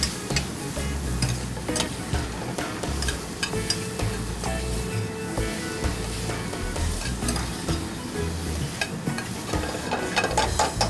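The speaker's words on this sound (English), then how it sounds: "So I'm just gonna dump all my lobster into my pot. And then I'm just gonna give it a real quick saute." Lobster meat tossed in a hot pot for a quick sauté, with steady sizzling and repeated scraping stirs running throughout, close and fairly loud, no talking.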